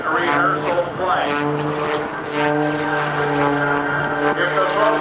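The Oracle Challenger aerobatic plane flies an early-morning rehearsal at the Fort Worth air show, its propeller engine droning steadily at a moderate distance with a slowly shifting pitch.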